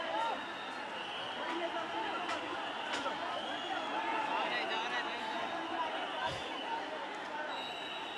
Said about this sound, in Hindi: भीड़ जो है आगे निकलने की कोशिश कर रही है और आरएएफ के लोग लाठीचार्ज कर रहे हैं